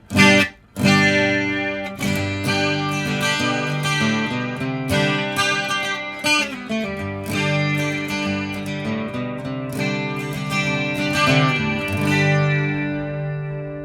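Electric carbon fiber guitar through a HyVibe smart pickup, chords and picked notes with a shimmering, swirling chorus effect, ringing out steadily without any talking.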